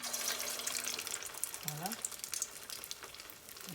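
Beignet batter hitting hot oil in a frying pan, a continuous bright sizzle and crackle with some watery bubbling, fairly close, plus a brief tonal sound partway through.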